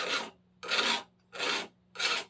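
A metal file clamped in a vise, with a pipe end dragged backwards across it to deburr it: four steady raspy strokes with brief gaps between, close and clear.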